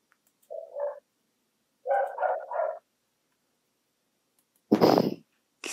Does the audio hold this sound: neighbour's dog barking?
yes